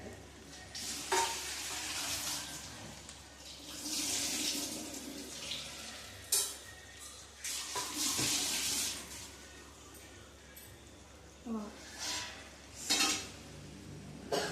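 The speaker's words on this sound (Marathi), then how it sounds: "आता पाणी टाकून घेणार आहे." Water pours into a hot pot with a rushing hiss and sizzle, followed by intermittent stirring clanks and scrapes.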